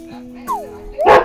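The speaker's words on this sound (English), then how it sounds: "Why do you think they're barking?" Dogs barking indoors in short yips and whimpering bursts, one rising cry and a louder bark at the end, with a person talking over them.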